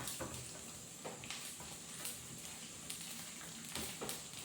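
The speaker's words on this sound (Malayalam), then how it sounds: "ചെറിയ ചെറിയ കഷ്ണങ്ങളായിട്ട് ഇങ്ങനെ കൊത്തിയിട്ട് നെയ്യിൽ വറുത്തിട്ട് ഇടുന്നത് മാത്രം" Chopped coconut pieces and sesame seeds frying in hot ghee for unniyappam give a soft, steady sizzle with light crackles and occasional stirring taps, close and quiet, with no talking.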